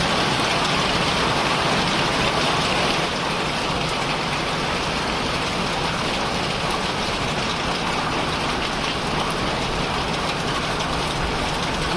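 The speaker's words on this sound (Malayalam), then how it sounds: "ആലിപ്പഴം വീണ കണ്ട താർപ്പായില്." A dense, steady patter of hail drums on a taut plastic tarpaulin, loud and continuous without pause, no voices heard.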